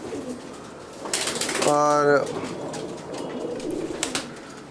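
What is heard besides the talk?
pigeon cooing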